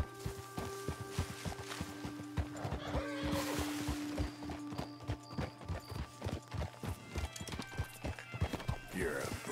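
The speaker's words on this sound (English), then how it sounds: "I want that horse. That horse is pretty." Horse hooves clip-clop in a steady walking rhythm with a whinny partway through, set in the video game Red Dead Redemption 2, with game ambience and a faint voice in the background.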